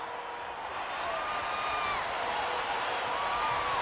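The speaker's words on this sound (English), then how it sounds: "And listen to this crowd." Arena crowd at a 1976-77 Superseries hockey game between the New England Whalers and the USSR, a broad steady roar of cheering and whistles swelling slightly, heard from a distance without talk over it.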